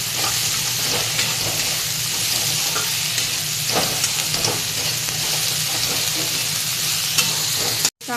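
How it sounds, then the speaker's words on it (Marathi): Shredded cabbage is stirred into onion and tomato frying in a pan, giving a steady, close sizzle with soft scraping stir strokes throughout and no voices. "आता त्याच्यातच घालून घेऊया आपण ही कोबी. चांगलं मिक्स करून घेऊ."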